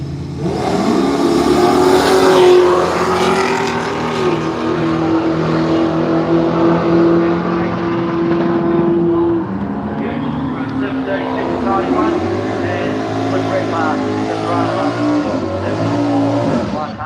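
Drag racing cars at Willowbank Raceway in Australia: a loud, sustained engine roar that climbs in pitch through hard acceleration, fades slightly, then surges again, with a commentator talking over it throughout.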